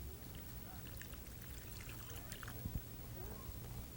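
Three cups of water pour into a cooking pot for an Indian entree seasoned with honey, spices, herbs and salt, a soft, close trickling stream with quiet kitchen background.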